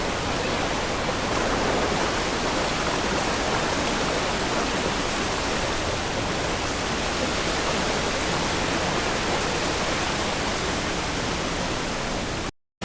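Rushing water at DirekMamen Falls in Bayombong, Nueva Vizcaya, a loud, steady, broadband roar of the waterfall filling the whole stretch without pause or voices before cutting off at the end.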